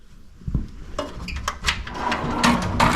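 A tool box drawer slides open and shut in a few quick scrapes and knocks, with metallic clatter from hand tools such as shears and pliers inside, close and moderately loud.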